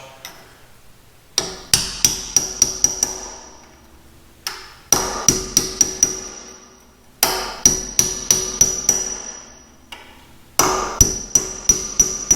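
A punch is hammered to seat a wheel dust cap on an older Honda or Acura rear hub, bursts of sharp metallic taps in quick rhythmic groups of five to seven, close and loud with short pauses between groups.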